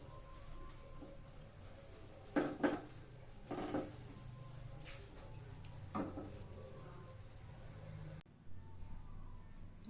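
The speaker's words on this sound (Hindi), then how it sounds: "बस अब इसको डिश आउट करेंगे" A spoon scrapes and taps against a pan while matar ka halwa with khoya is served out, a few distinct clinks and scrapes over a faint background hiss.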